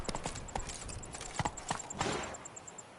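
Roach the horse galloping in The Witcher 3, quick rhythmic hoofbeats in a short burst, fairly close, fading toward the end.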